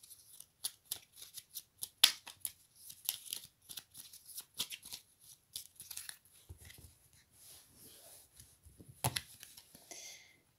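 Tarot cards are shuffled and drawn in quick papery flicks and soft slaps, a dense patter of crisp riffles that thins into scattered light taps and rustles, close and fairly quiet.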